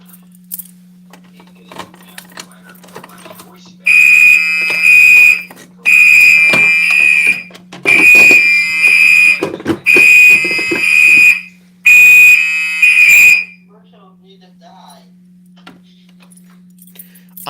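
Fire alarm on an Edwards or Simplex panel sounding in five loud, steady electronic tone bursts of about 1.5 seconds each, separated by short gaps, over a constant low hum.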